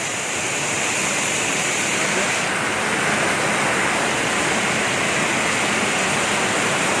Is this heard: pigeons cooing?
no